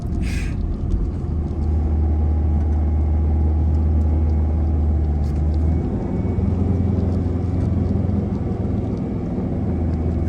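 Car crossing desert sand, a steady loud low engine drone with rumbling tyres running continuously throughout, a brief faint higher noise near the start.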